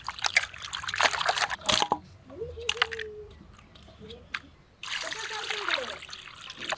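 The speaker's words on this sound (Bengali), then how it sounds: "তারপরে তো খাসির মাথা একটু বেশি ধুয়ে নিলাম" Goat head meat is washed in water with repeated trickling, splashing and sloshing in a kitchen, the bursts starting and stopping over several seconds while someone talks between them.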